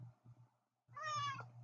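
A house cat close by gives one drawn-out, rising-and-falling meow after a few soft low chirps and a brief pause.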